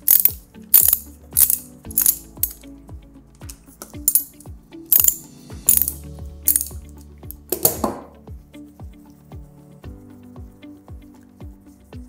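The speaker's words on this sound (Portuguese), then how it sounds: "Com o auxílio de uma chave catraca, vamos retirar os parafusos." A ratchet wrench removes bolts from a Yale pneumatic hoist with close, loud bursts of rapid metallic clicking in repeated strokes. A heavier metal clank falls partway through.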